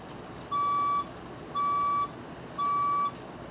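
Building fire alarm test tone: three evenly spaced electronic beeps, each about half a second long, sounding steady and clear over a quiet background.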